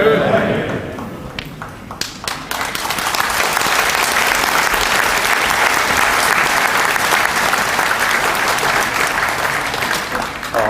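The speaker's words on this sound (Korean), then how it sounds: "박수로 환영해 주셔서 정말로 감사를 드립니다" A large congregation at a national elders' retreat applauds to welcome a pastor, a few scattered claps swelling into loud, sustained applause that fills the hall.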